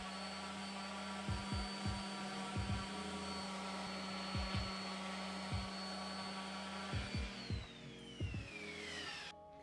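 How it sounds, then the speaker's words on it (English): A random orbit sander fitted with a 120 grit sheet works over wooden parts of a bandsaw box, cleaning off burrs and sticky residue. It makes a steady, close whirring drone with brief scuffing bumps as the pad shifts, then winds down near the end. "The random orbit sander."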